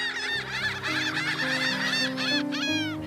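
A flock of birds diving onto a fishing boat full of fish, loud honking goose-like calls overlapping in quick, dense bursts close by.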